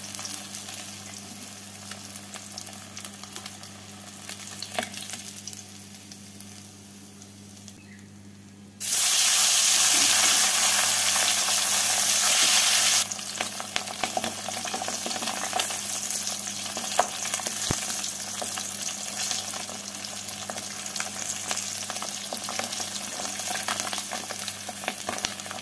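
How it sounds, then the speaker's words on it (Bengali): Lyata fish frying in hot oil in a home kitchen, a steady close sizzle and hiss that swells into a louder spitting burst midway before settling back to an even crackle. "মাছগুলো ভাজা হয়ে গেছে, তুলে নিচ্ছি"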